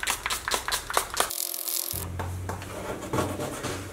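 Rubbing over leftover vinyl decal adhesive residue on car paint, a rhythmic series of close rasping, squeaky strokes repeating several times, with a brief lull midway.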